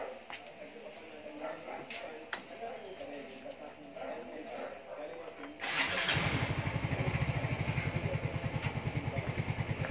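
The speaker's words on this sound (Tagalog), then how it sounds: "So, umaandar na yung motor natin," A Yamaha Mio Soul i 125 scooter engine starts after about five seconds of quiet clicks and handling, then settles into a steady, fairly close idle with a rapid regular putter that runs to the end.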